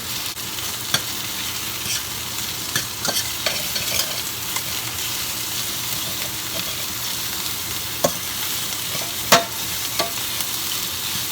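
Cornstarch-coated chicken pieces frying in grease and syrup in a pan, a constant loud sizzle broken by scattered spatula clicks and scrapes, with no one talking.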